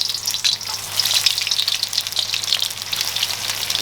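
Karale ingredients drop into hot, dark oil and fry with a loud, dense crackling sizzle, bubbling steadily and close up the whole way, with no voices.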